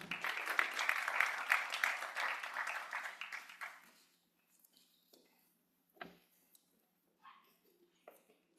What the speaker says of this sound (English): if we could all give the panelists a round of applause